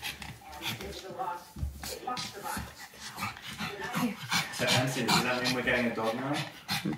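A dog's whimpers and soft whines come through amid close, lively talk from several people, with the animal's sounds partly masked by the voices throughout.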